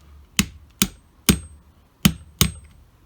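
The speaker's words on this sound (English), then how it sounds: "Pin. Tap with hammer." A hammer taps a punch to drive a pin into an Armament R501 firearm, five sharp metallic knocks at uneven intervals, close and crisp with no talk.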